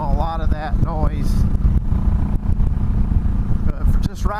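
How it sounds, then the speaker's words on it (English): A 2004 Honda Sabre 1100 motorcycle exhaust rumbles steadily while riding, a loud low drone with wind buffeting, and someone talks over it at the start and near the end. "I like being able to hear the exhaust."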